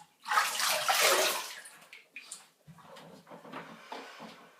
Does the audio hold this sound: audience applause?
no